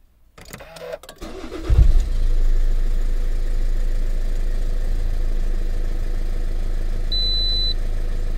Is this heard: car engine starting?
yes